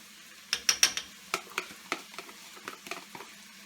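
Green chili and ginger paste is tossed in a frying pan over a faint sizzle, with a series of sharp clinks and scrapes of the utensil against the pan, loud at first then tapering off.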